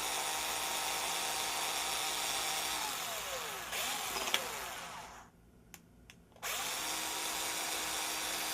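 A power drill with a 7/32 bit whines loudly as it bores straight through wood, pitch shifting under load, then stops briefly before starting up again.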